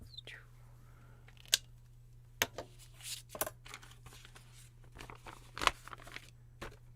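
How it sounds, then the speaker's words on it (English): Scissors snip through excess quilt fabric during paper piecing, leaving a seam allowance: a few sharp, isolated cuts spaced apart over a low steady hum, quiet and close. "Cut off the excess, leaving a seam allowance."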